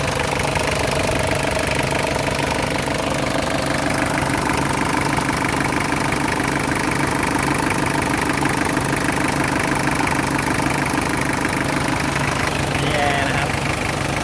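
Nissan 720 pickup with its original SD23 diesel engine idling steadily, a continuous even rumble with faint knocking texture, close and loud throughout, with no talk over it.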